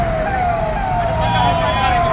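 Emergency sirens from fire engines and ambulances arriving at a company factory fire wail steadily over heavy traffic rumble and outdoor noise, loud and continuous, with voices faintly mixed in.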